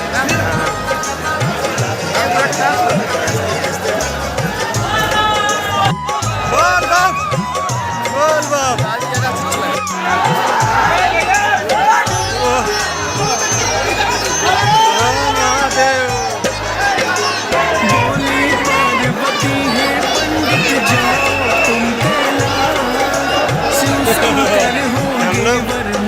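A huge crowd of pilgrims packs the Ganga ghat in Varanasi near the Kashi Vishwanath temple, a continuous dense babble of many voices up close with repeated devotional chanting rising from the throng.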